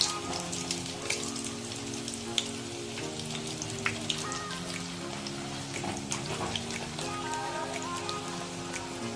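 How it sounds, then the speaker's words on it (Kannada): Curry leaves hit hot oil while making avalakki chuda, a flattened rice snack, producing a continuous close sizzling hiss dotted with small crackles and pops, with a faint tonal hum underneath. "ಈಗ ಕರ್ಬೇವಿನ ಸೊಪ್ಪು ಹಾಕೋತಾ ಇದ್ದೀನಿ."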